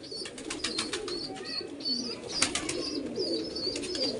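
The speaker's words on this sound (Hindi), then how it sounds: "ये देखो जंगला कबूतर" Pigeons coo repeatedly at close range, with soft overlapping calls and chirps over a low background hum, no voices.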